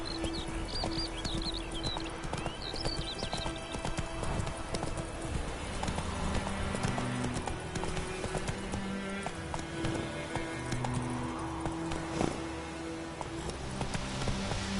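Roach, the horse in the video game The Witcher 3, clip-clops at a steady walking rhythm, hooves close and clear over game music and ambient sound, with no talk.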